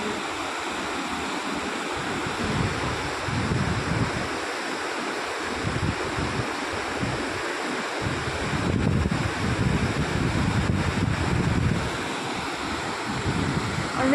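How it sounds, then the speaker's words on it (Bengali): Water spills steadily over a weir onto stones, a loud, continuous rushing roar with some wind buffeting the microphone, and no voices. "এই যে জলটাকে ওভারফ্লো করে সুন্দর করে তৈরি করেছে।"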